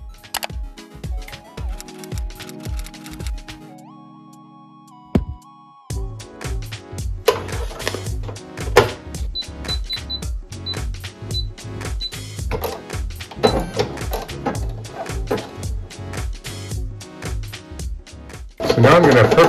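A Brother SE1900 embroidery machine stitching out a design, a rapid rhythmic mechanical clatter close by that pauses briefly and then resumes steadily, with someone talking over it at times.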